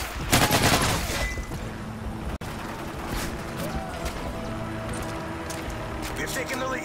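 Sentry gun firing in Modern Warfare 3, a rattling burst of automatic fire up front, then continued game noise with an announcer-style voice over it.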